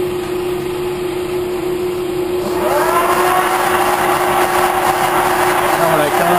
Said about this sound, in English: get the machine running.